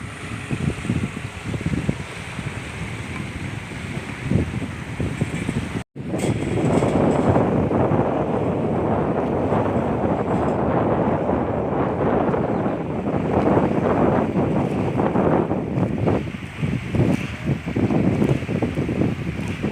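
Waves wash continuously against the shore of the freshwater lake in Lopburi at night, a dense rushing wash mixed with heavy wind buffeting the microphone, broken only by one brief dropout.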